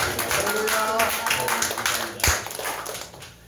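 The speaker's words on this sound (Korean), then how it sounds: "박수하겠습니다" Applause from a church congregation welcoming two newcomers, a dense steady patter of many clapping hands under a speaking voice, with one sharp tap near the end before the clapping fades.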